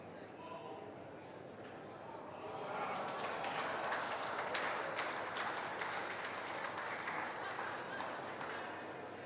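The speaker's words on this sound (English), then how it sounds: "Big round of applause for Jo Martin" Spectators at a women's pairs lawn bowls quarter-final break into applause that swells and holds as a broad outdoor patter, with a commentator talking over it throughout.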